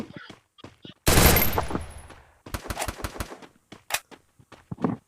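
Bursts of gunfire in the battle game Free Fire, one long loud volley followed by a string of sharp rapid shots at close range, with brief gaps between them.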